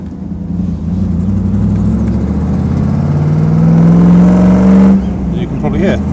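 A Land Rover 90 soft-top's V8 engine revs up loudly from inside the vehicle, its deep tone climbing steadily for several seconds before easing off, with a voice briefly heard.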